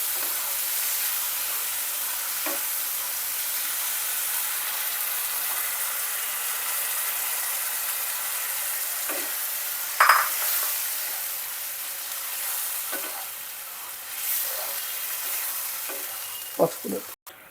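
Soaked green moong dal frying in a pan with a steady sizzle while a spoon stirs it, close by, with a few louder scrapes and clinks of the utensil against the pan.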